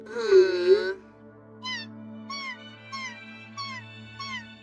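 A cartoon cat lets out one long, drawn-out meow, followed by a string of about five short, evenly spaced mews, clear and close with nothing else around.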